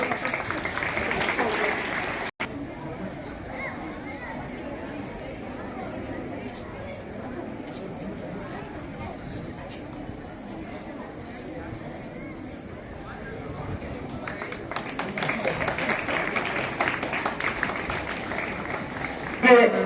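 An audience at a village high school's annual day function in Devanagaon keeps up long, steady applause mixed with crowd chatter, swelling slightly louder near the end.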